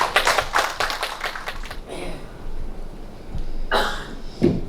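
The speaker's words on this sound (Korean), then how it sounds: "나오실 때 우리 박수로 환영해 주십시오." A church congregation claps in welcome as a pastor comes forward at a worship service, a burst of close, rapid clapping that thins out, with a few coughs and scattered claps later.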